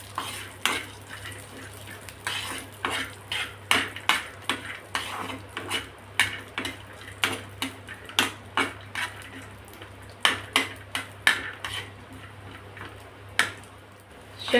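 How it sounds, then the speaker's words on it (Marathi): Peanuts being dry-roasted in a pan and stirred steadily, a spoon scraping and clattering against the metal in a rhythmic run of close, crisp knocks, with a low steady hum underneath and no talking. "शेंगदाणे टाकून घेणार आहोत। शेंगदाणे थोडेसे भाजून घ्यायचे।"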